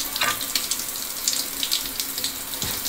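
Running shower water in the Mars survival game Stationeers, a steady hissing spray with faint splashes, alone and continuous at moderate loudness.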